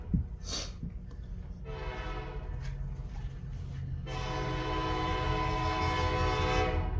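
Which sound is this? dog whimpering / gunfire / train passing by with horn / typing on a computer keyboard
train passing by with horn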